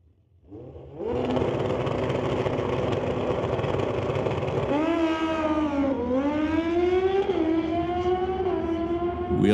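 Drag racing motorcycle called the Kraken launching down the track at a test and tune event: a loud sustained engine roar that rises sharply as it pulls away, with pitch sweeping upward through the gears.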